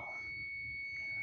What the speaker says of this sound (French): J'ai mis l'alarme.